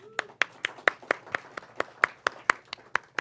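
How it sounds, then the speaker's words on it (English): At a gathering after a talk, evenly paced claps ring out in a steady rhythm, about four per second, crisp and close, with a faint hum beneath. "And let's give another round of applause to Joyce."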